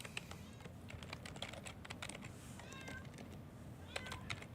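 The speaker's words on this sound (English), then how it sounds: "So if you hear a cat in the background" A talkative house cat meows a few times in the background, faint and intermittent, over steady quick computer keyboard typing close by.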